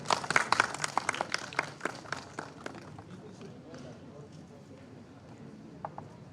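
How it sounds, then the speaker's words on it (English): Scattered clapping from attendees at a national radiographers' and technologists' conference opens with sharp, separate claps that thin out and fade within a few seconds, with voices in the background. "A huge round of applause for him."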